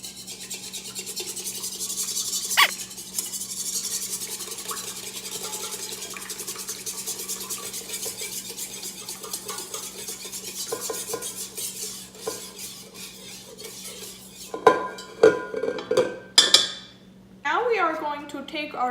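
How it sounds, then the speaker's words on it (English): A whisk scrapes and clinks against a mixing bowl as ingredients are beaten hard, a steady rubbing metallic chatter lasting throughout, with a few sharper clinks and a voice speaking briefly near the end. "You got to whisk very ferociously so that all the ingredients get well mixed together"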